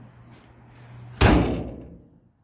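Trunk lid of a 1966 Oldsmobile F-85 swung shut and latched: one sharp, solid slam that rings briefly and fades, close by after a moment of low background hum.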